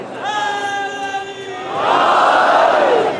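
A crowd at a Shia religious majlis for Imam Ali chants a slogan, starting with a single leading voice and swelling into a loud, unified collective shout that holds to the end.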